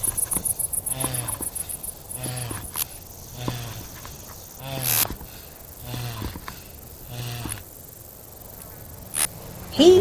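A cricket chirps in rapid repeated bursts, close and clear, over a quiet musical storybook background.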